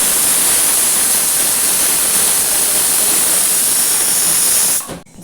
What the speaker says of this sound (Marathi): कुकरला झाकण लावून 3 शिट्ट्या काढायच्या आपल्याला